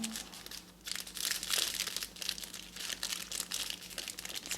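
Crinkly plastic packaging around Japanese makeup brushes is torn and unwrapped up close, a steady run of loud crackling and rustling with brief lulls, no voices.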